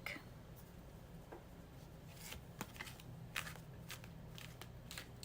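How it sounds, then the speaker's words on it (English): A deck of cards being shuffled for a pick-a-card tarot reading, with soft riffles and crisp card flicks, the loudest near the middle, over a steady low hum. "shuffle with intention"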